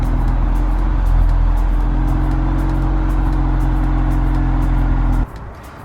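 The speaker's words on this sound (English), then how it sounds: "So now I'll just fire the car up, put it in reverse," A Ford Focus RS engine runs close by at a steady, loud idle with no break for about five seconds, then drops abruptly to a lower, quieter level at the end.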